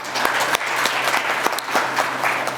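A church congregation at a Sunday service in Sahiwal, Pakistan, claps steadily together, a loud, continuous wash of applause with sharp individual claps standing out.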